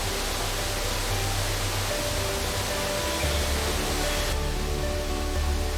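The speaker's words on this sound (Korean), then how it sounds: "쏟아지는 폭포 물줄기 뒤에는 이곳을 찾는 여행객을 위한 비밀 공간이 숨어 있다." A waterfall pours in front of a natural cave deep in the Costa Rican mountains, making a steady, dense roar of rushing water that holds constant throughout with no voices.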